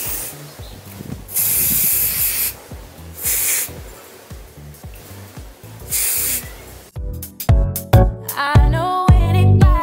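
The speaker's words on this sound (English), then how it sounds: "Then I'm going to be spraying my Got to Be spray to secure the lace." Several short bursts of Got to Be hair spray hiss in quick succession, close up, sprayed to secure a braided lace wig, followed by clicking and light handling noises.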